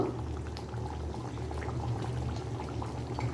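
Ghee poured into a simmering fish kofta curry, a soft steady bubbling and sizzling with a gentle pouring trickle, quiet and continuous with no talk.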